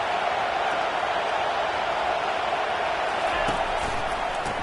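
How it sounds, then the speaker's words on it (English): A Florida vs Florida State college football stadium crowd roars as one steady, dense wall of noise that holds without a break for the whole stretch, loud and enveloping. "Defense has him pinned back, and listen to this crowd roar."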